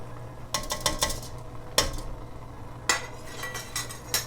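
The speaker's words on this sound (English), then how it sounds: "now that we have our broth up to the boil, we'll add in our fregola" Dry fregola pasta tipped into a pot of boiling broth: a few sharp clinks and rattles of utensil against pot in short bursts, with a low steady simmer underneath.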